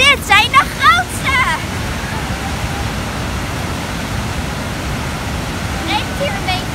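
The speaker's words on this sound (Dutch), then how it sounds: "we hebben de watervallen gevonden hoor. Dit zijn wel de kleinste van België." Small waterfalls in the Belgian Ardennes rush with a steady broadband roar close by, while voices talk briefly over the water at the start.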